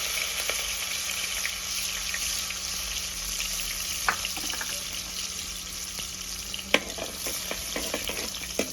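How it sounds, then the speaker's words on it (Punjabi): Chopped garlic fries in a pan until lightly browned, with an even crackling sizzle close up and a few sharp clinks of a utensil against the pan. "ਲਸਣ ਨੂੰ ਵਿੱਚ ਐਡ ਕਰ ਦਿੰਨੇ ਆ ਲਸਣ ਨੂੰ ਆਪਾਂ ਹਲਕਾ ਜਿਹਾ ਬ੍ਰਾਊਨ ਕਰ ਲਵਾਂਗੇ"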